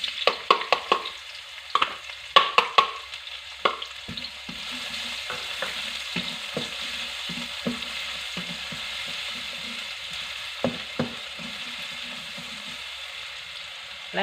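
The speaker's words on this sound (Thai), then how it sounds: "ก็นำกุนเชียงลงทอดพร้อมกับ กระเทียมนะคะ ทอดไปด้วยกันค่ะ ด้วยไฟกลางนะคะ" Chinese sausage and garlic frying together in a wok over medium heat, a steady close sizzle with scattered sharp clicks and scraping stirs, the crackle heavier at the start and settling into a continuous hiss.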